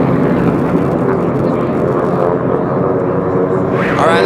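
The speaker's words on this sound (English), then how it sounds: "that's Jason Carlin in the dark airplane" AT-6 racing airplanes roar past at the Reno air races, a loud continuous engine drone that stays steady throughout, with a slight rising whine near the end.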